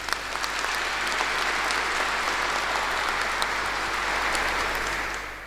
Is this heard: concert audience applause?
yes